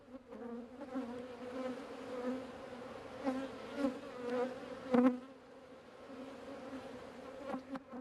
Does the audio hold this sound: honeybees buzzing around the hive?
yes